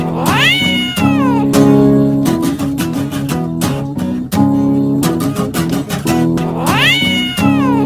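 A cat meows loudly and repeatedly, drawn-out rising and falling cries in two clear bursts, with sharp rhythmic clicks between them, in a comic cat talent-show setting.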